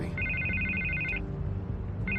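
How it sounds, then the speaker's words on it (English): A telephone rings in Batman: The Telltale Series, two bursts of bright electronic trilling separated by a pause, clear and prominent over a low background hum. "I can't get the phone to stop ringing."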